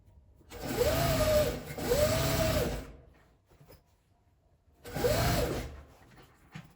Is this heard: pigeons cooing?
no